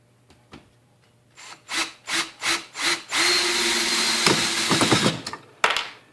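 A Ryobi 18V One Plus cordless drill drives a 1.25-inch screw into wood. Several short trigger bursts come first, then a sustained grinding whir while the screw sinks, and it ends in a couple of brief bursts, all close up.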